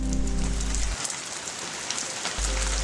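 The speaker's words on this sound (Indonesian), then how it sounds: "Aduh, hujan lagi." Steady rain falling and pattering on a surface, dense and continuous throughout, with no voices.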